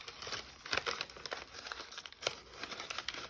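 Paper being torn along its edges for a junk journal, a quiet, close series of short crinkling rips and rustles in quick irregular bursts, with no voices.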